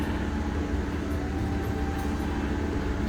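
The Gajah Wong passenger train shunts in a Yogyakarta station, a steady low rumble and drone of the moving train held continuous and moderately loud throughout.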